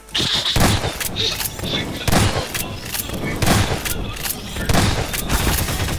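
Rapid bursts of machine gun fire in Garry's Mod during a Songkran water-fight round, loud repeated volleys with short gaps over about six seconds, with excited voices talking over the shooting.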